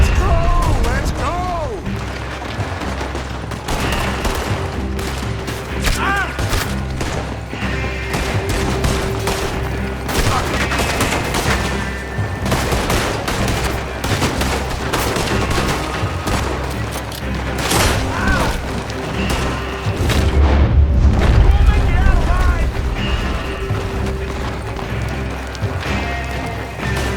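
Gunfire from the Red Dead Redemption 2 video game during a raid on an oil operation, with dense, continuous bursts of shots and crashes lasting throughout, mixed with shouting voices and a heavier boom near the end.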